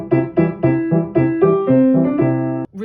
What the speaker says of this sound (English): You could use this technique for Jingle Bells,